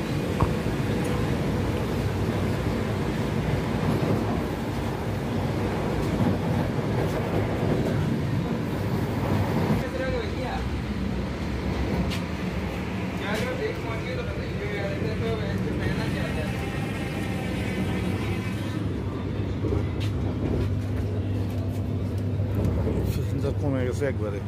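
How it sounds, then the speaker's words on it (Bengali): Passenger train running at speed on the line toward Parasnath junction, heard from inside a carriage: a steady, loud rumble and rattle of wheels and car body continuing throughout without a break. "আমাদের ট্রেন চলছে দ্রুত গতিতে"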